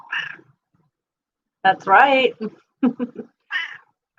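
A pet cat named Honey meows a few times in short, fairly close calls between a person's spoken remarks, with quiet gaps in between.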